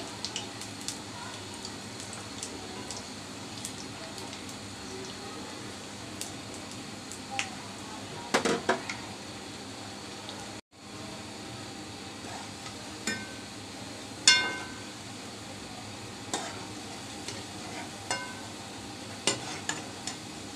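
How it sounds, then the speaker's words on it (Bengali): Jackfruit juice rosbora fritters fry with a soft, steady sizzle while being flipped in the pan, broken by scattered light clinks and taps of a utensil, faint and continuous throughout. "এই তো দুই সাইডে উল্টিয়ে পাল্টিয়ে ভেজে নামিয়ে নিচ্ছি।"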